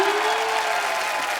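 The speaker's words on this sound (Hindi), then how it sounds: "रहने दो। तालियां।" A studio audience at a comedy talk show gives a short, dense burst of steady applause.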